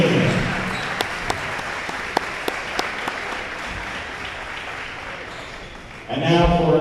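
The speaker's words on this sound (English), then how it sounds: "let's give a big round of applause for the players, coaches, and staff who made this tournament a" Gymnasium crowd applauding players, coaches and staff after a girls' district championship basketball game, a steady wash of clapping with a few louder individual claps, ending as a voice comes in over a loudspeaker.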